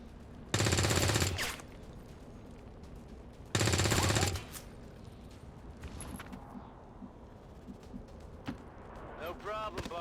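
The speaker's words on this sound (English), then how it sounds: "Suppressing fire on target." Two long bursts of machine-gun suppressing fire in XCOM 2, each lasting about a second, loud and close, followed by quieter ambient game sounds.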